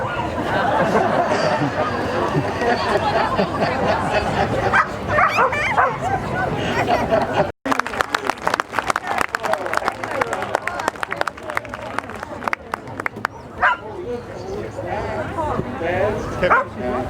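A rescue dog, now a care home pet, barks and yips at an outdoor country fair, sharp repeated barks over continuous crowd chatter and a voice talking through the scene.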